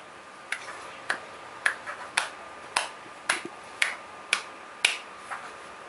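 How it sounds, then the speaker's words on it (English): A 13-month-old toddler clapping hands on a table, with about ten light, sharp claps in a steady, slightly uneven rhythm, close by and otherwise quiet. "Clap, clap, clap, clap."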